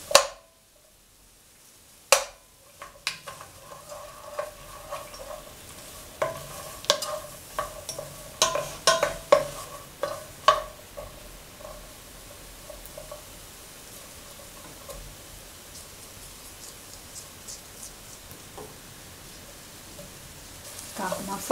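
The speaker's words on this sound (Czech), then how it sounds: "a cibulku si spěňte na másle" Onion sautéing in melted butter in a pan for a Czech lecso, with a soft steady sizzle punctuated by sharp clatters and stirring knocks near the start, then a quieter continuous frying hiss.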